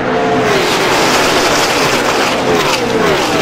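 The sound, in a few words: stock car racing at Talladega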